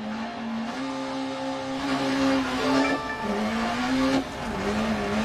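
A race car idling and revving at the Pikes Peak start line in a video game, engine note rising and dipping steadily in the foreground, with no voices.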